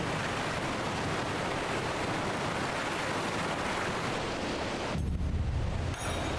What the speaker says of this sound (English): The smell of the salt and the crash of the waves as we drew closer to Kugane